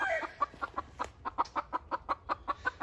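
A speckled gamefowl hen clucks in a steady series of about a dozen short, close, fairly loud pulses, evenly spaced with a brief rougher call at the start and no talking.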